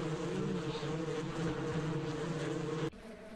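Bees swarm and drone around a hive frame in the farming game Ranch Simulator, a dense continuous buzz held close and steady before it abruptly drops to a quieter hum near the end.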